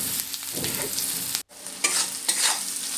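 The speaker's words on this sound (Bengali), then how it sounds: "আবারও আমি খুব ভালো করে একটু ভেজে নেব, যাতে হলুদের কোনো গন্ধ না থাকে" Onion and garlic with turmeric stir-fry lightly in a pan, a close continuous sizzle with spatula scrapes and stirring, briefly cut to silence midway before resuming, with no voices.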